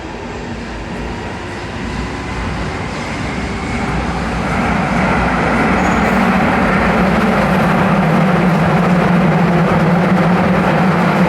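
Steady rumbling interior noise of a moving train, a broad low roar that swells slightly and then holds even and continuous throughout, with no voices.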